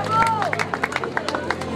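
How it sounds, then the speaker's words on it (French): A scattered round of hand clapping from a small crowd at a children's race, with voices chattering over it and a brief whistle-like tone near the start. "On applaudit quand même."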